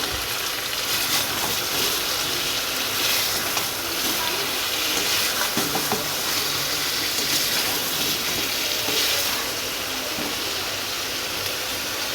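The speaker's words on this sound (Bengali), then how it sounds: "এবার জল দিয়ে দেবো" Water pours steadily into a pan of chicken curry, a continuous close gushing and sizzling wash that runs for the whole stretch at an even level, with no talk.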